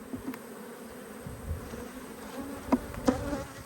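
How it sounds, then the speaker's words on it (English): Honey bees buzz steadily inside an open hive in an Australian backyard apiary, a dense droning hum with a few sharper, closer buzzes of individual bees passing near. "there's a lot of bees in the top there"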